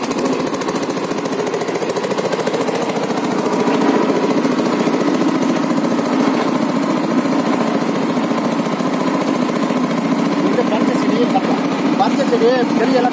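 A groundnut harvesting machine engine runs steadily at a rapid, hammering idle in a field near Melur, Madurai, staying loud and continuous throughout, with voices talking faintly over the machinery.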